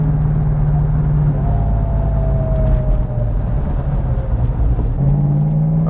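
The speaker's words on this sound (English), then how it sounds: "you open this Hemi up and she just flies" A 1970 Plymouth Hemi Cuda clone with a shaker hood idles and rumbles close by, a deep steady V8 throb with a slight shift in pitch partway through, no voices.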